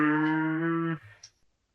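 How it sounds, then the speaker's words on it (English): A cow gives a single short, clear moo, a steady tonal call lasting about a second before it cuts off into silence. "Now listen to cow sound."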